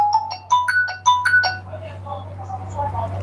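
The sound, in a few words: phone ringtone of an incoming call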